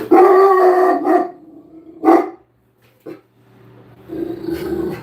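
A dog barks and howls loudly and close by in repeated bursts with short pauses between them, and no one speaks over it.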